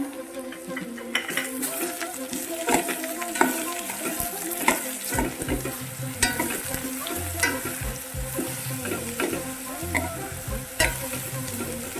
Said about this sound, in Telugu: బీరకాయ ముక్కలు వేస్తున్నాను.